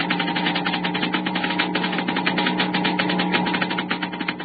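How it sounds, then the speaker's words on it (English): Crackling from a model atom smasher, a dense rapid buzzing and sputtering with steady electrical hum underneath, continuous and fairly loud throughout. "The crackling comes from a model atom smasher"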